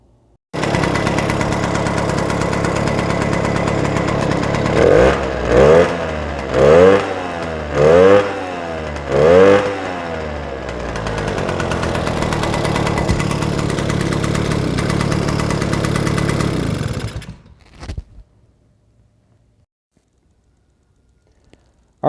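Small 50cc dirt bike engine, Suzuki JR50-type, running loud and close after a pod air filter upgrade, idling steadily with five quick throttle blips in a row, then settling before cutting off near the end.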